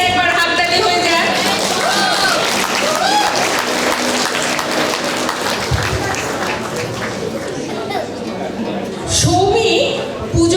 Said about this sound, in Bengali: তাই সৌরভের জন্য জোরে একবার হাততালি হয়ে যায়।